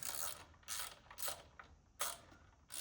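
Ratcheting clicks from a hand tool tightening valve cover bolts on a BMW N52 engine in an E91, several short bursts of rapid clicking close by and fairly quiet, without talk.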